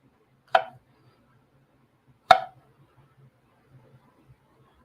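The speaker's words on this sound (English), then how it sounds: "And I need to dice these up pretty small." A knife dices food on a cutting board with two sharp, isolated chops about two seconds apart, followed by a few faint taps in an otherwise quiet kitchen.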